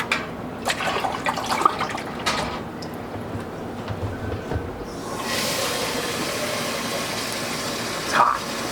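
Water runs into a container for a cooking or brewing task, a soft steady rush that starts quietly, then swells into a brighter, louder stream for the last few seconds, with small clanks along the way.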